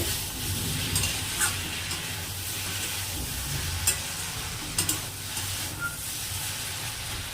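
Malabar spinach and pumpkin curry cooking in a pan on a home stove, giving a steady close sizzle and bubbling hiss with occasional soft clicks of stirring, no voices.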